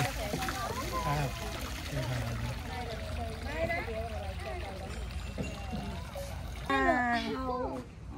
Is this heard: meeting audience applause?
no